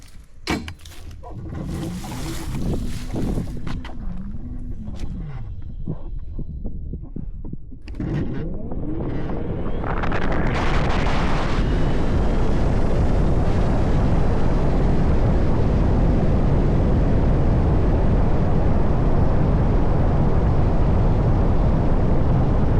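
A homemade 20-horsepower mini electric motorcycle makes a top-speed run, its motor whine and rushing wind rising into a loud, steady roar that holds for the rest of the run after a quieter, fluctuating start.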